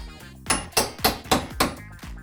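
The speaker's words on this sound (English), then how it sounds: "So we score it real quick and get a pry bar" A hammer strikes a pry bar to lever baseboard trim off a drywall wall, five sharp, evenly spaced metallic blows in a steady rhythm, close and loud, with no speech.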